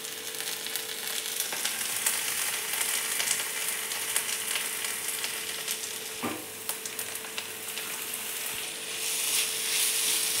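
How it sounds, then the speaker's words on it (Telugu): Grated potato frying in a pan over a low flame for an aloo egg omelette snack, giving a steady, dense sizzle and crackle throughout with occasional stirring scrapes, close and continuous with no talking. "5 మినిట్స్ లో ఫ్లేమ్లో వేయించుకోవాలి"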